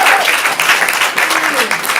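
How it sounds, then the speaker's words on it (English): A stand-up comedy audience applauds, a dense wash of clapping with a few scattered cheers and voices mixed in, close and fairly loud. "Give them all a round of applause."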